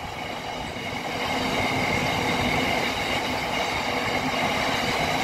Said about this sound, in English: You want to wait to start off as well with a freight train.